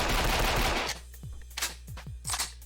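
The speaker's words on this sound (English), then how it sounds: "Now I'm on my handgun." Handgun fire in the video game Banzai Escape comes after a loud burst of heavier shooting, as a few separate sharp shots spaced about half a second apart, moderately loud with no talk.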